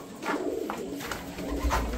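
Pigeons cooing inside a farm shed, soft repeated coos close by over a steady low murmur of birds, with no talk.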